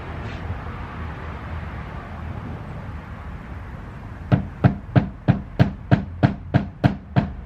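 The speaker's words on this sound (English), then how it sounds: "Center punch first, hammer." Quiet room hum, then about ten sharp metallic hammer strikes on a center punch in an even, quickening rhythm, close and crisp.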